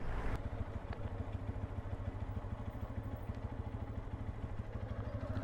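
A Sym NHT 200 motorcycle idles steadily in Essaouira, its engine putting out an even, low, throbbing chug at moderate distance with no voices over it.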